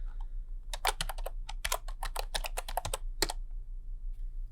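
A password being typed on a computer keyboard, a quick run of crisp, close key clicks in short irregular bursts over a faint low hum, with no talking.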